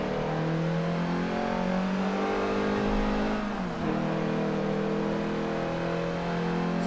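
A Volkswagen Golf engine in the Forza 7 racing game drones steadily at high revs down a straight, with a brief dip in pitch around midway like a gear change before it climbs again, loud and continuous with no talk.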